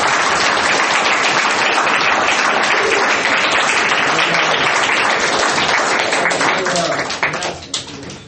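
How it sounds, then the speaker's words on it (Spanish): Sustained applause from a church congregation during a sermon, dense and loud throughout, thinning out and fading near the end. "¿Cuántos pueden regalarle un aplauso a nuestro Padre Celestial?"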